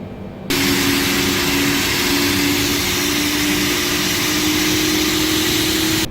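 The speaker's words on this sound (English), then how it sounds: "Alright, starting engine 4." A Boeing 747-8F's number four engine spools up in Microsoft Flight Simulator, rising from silence into a steady, loud broadband roar with a sustained whine that holds evenly until the end.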